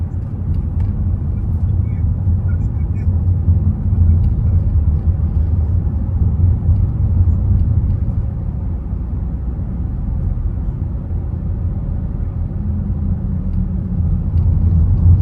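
A car pulls away onto a road on a driving-test route in Sarny, Ukraine, a steady low engine rumble and road noise running continuously and fairly loud throughout, with no pauses.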